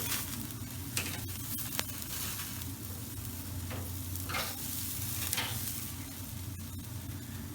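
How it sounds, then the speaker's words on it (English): Iraqi kofta kebabs sizzle on a hot grill in a dense, unbroken crackle that stays even and close throughout, with a few brief pops rising above it. "So generally this will cook in about 5 minutes on a hot grill."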